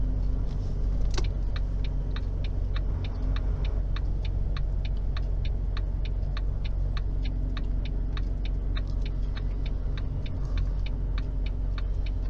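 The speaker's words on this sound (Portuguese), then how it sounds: "Trânsito pesado à direita." A car drives through heavy traffic at the Uruguay–Brazil border crossing, past duty-free shops. A steady low road and engine rumble fills the cabin, with a regular clicking tick running throughout, and no one speaks.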